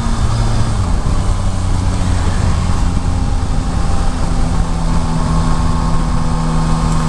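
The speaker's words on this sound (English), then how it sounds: "overall, I really like the engine. I like the engine note as well." Steady engine drone of a 2021 Yamaha Tracer 9 GT motorcycle while riding, a continuous close hum with a faint tonal line and wind rush, no speech over it.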